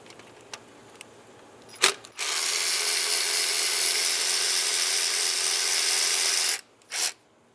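Rapid whirring of a power tool removing 10 mm nuts from valve cover studs on a Mazda CX-9 engine, a few short clicks first, then one long sustained run and a brief final burst.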